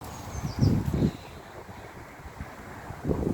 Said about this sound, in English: Poppy, why is it windy up here?